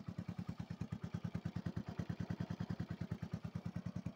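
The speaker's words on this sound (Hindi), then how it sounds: "होंडा की है, होंडा CD110" A Honda CD110 motorcycle engine idling, a regular low thumping exhaust beat of about eight pulses per second, steady and close but fairly quiet.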